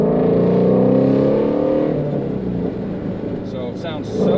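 The V8 engine of a 2020 Ford Mustang Shelby GT350R drones loudly while the car drives, its pitch climbing and then settling. A louder surge comes near the end, and a voice talks over part of the engine noise.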